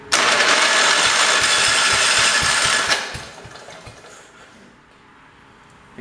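A Kohler engine on a 1968 112 garden tractor cranks and catches loudly, then drops back and settles into a softer, steady idle for the rest of the clip.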